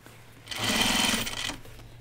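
Sewing machine stitching fabric for a dopp kit, one steady mechanical whirring burst of about a second with a rapid rhythmic chatter, close and clear.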